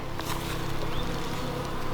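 Honey bees fan at the entrance of a hive after a Taranov split, giving a continuous, close buzzing drone with a steady hum and no voices.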